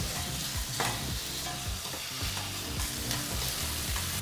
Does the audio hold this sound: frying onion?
yes